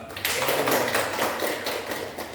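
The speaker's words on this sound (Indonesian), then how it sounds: "kita kasih tepuk tangan buat Mas Eva" A class of children applauding a classmate after a correct answer in a science lesson, a continuous patter of many hands clapping at moderate volume for a couple of seconds.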